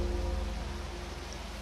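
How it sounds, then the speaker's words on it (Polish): Steady rain falling in the fantasy role-playing game Risen, a continuous even hiss of drops close by, heard alone with no talk. "Ale nie, tylko nie deszcz."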